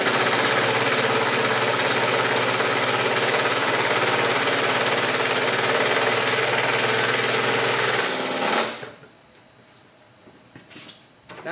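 Makita XDT16 impact driver hammering at speed one, a loud, steady, close rattling burst lasting about eight seconds before cutting off abruptly into quiet room noise.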